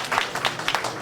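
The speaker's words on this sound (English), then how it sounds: "Please, let's give our Imam a big hand clap," Audience applause for an imam at a community gathering: a short burst of crowd clapping in several surging waves, moderately loud and fairly close.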